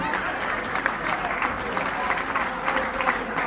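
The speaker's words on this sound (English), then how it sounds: "massive round of applause for us." Steady crowd applause for Liverpool legend John Aldridge at an evening event, a full, continuous wash of clapping from a large audience with faint cheers and voices underneath.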